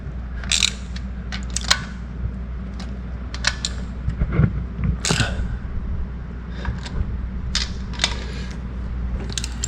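Bolts on a 1971 Corvette under restoration are tightened by hand, producing repeated creaking and ratcheting clicks with small metallic ticks, close and fairly loud, with no talking.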